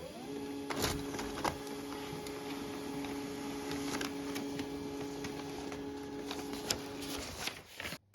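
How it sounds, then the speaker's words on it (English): A Samsung laser printer running off a self-test report: a steady motorized whir with rollers feeding paper, punctuated by several clicks and clunks, ending with a final mechanical thump as the sheet comes out. No one speaks. "that will print off like a self-test report"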